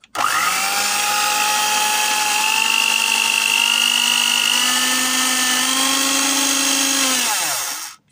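A repaired Cosmos electric hand mixer on 220-volt mains whirs steadily for about seven seconds, its motor pitch rising slightly before it winds down and stops. The sound is loud and close, with no talking.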